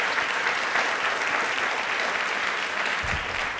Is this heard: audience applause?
yes